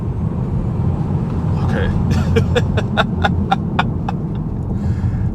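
A 2025 Tesla Model 3 Performance launches hard from a brake-torque start, a steady loud electric whine and road rumble heard from inside the cabin, with a short spoken word and some clicking.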